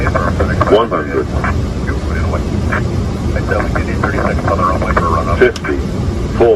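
An Airbus A330 lands in fog at Milan, its steady airliner engine roar continuous and fairly loud beneath overlapping radio and cockpit voices.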